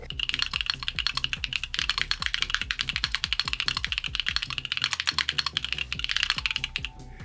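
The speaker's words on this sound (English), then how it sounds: "I have this crazy mechanical keyboard made by Keychron, and it sounds amazing. Let me give some typing noises here." Rapid, steady clacking of a Keychron mechanical keyboard being typed on up close, crisp individual keystrokes running continuously without pause.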